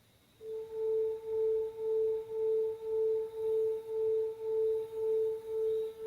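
A 440 Hz violin note sounding against a 441.9 Hz tuning fork produces a pure, steady tone that swells and fades in slow, even beats, about two per second, with no voices.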